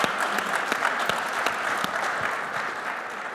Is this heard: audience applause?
yes